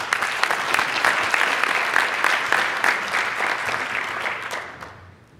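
A symposium audience gives a round of applause for the lightning-talk speakers, brisk and continuous clapping that fades out over the final second.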